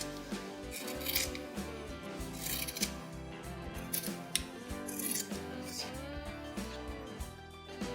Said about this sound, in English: Cut this part to form a curved shape.